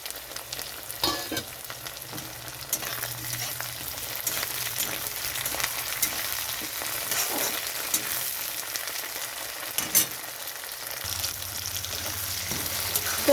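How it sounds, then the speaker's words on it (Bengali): Spices sizzle in hot oil in a pan for a new-potato curry, with green chilli and tomato added, crackling continuously while being stirred and scraped, with occasional louder clatters. "এখানে আমার মশলাটা ভাজা হয়ে গেছে"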